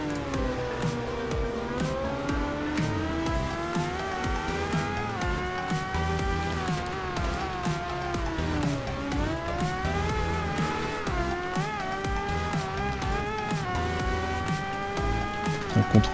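Motorcycle engine in a motorcycle simulation video game, a high revving whine that climbs and falls in pitch as the bike accelerates and shifts, loud and continuous, with a brief faint tone at the start.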